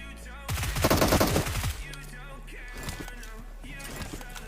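A loud, dense burst of automatic gunfire from the mobile shooter game PUBG Mobile rattles rapidly for about a second, then cuts off into quieter in-game background noise.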